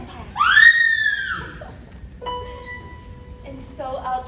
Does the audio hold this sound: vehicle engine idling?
no